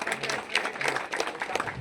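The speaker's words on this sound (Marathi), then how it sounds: "आणि व्यासपीठावर सर्व पाहुणे मंडळींसाठी एकदा जोरदार टाळ्या होत्या" Applause for the guests on stage at a village secretariat inauguration in Maharashtra, a dense, steady wash of clapping from a crowd lasting the whole short stretch, moderately loud and without speech over it.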